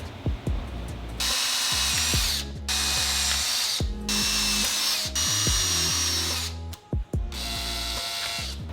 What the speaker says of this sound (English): Now I'm going to take my 1/4 inch drill bit and drill the last 4 holes on the guide.